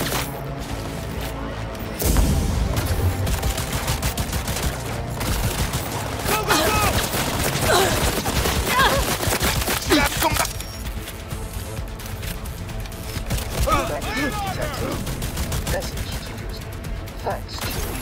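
Sustained gunfire and bursts of automatic weapons in the video game Cyberpunk 2077, loud and continuous through a firefight, with game voices shouting over the shooting.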